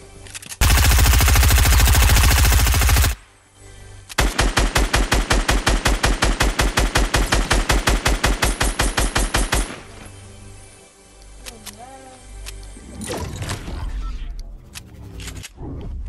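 Gunfire in Fortnite erupts in a loud sustained burst, then a long rapid rhythmic string of shots, followed by scattered quieter sounds and a few distant pops.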